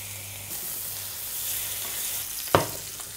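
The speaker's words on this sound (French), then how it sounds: "assaisonner de sel fin les noix de Saint-Jacques, puis les disposer dans l'huile bien chaude" Norway scallops sear in very hot oil with a steady, close sizzle and faint crackle, broken near the end by one sharp clatter as a scallop is set into the pan.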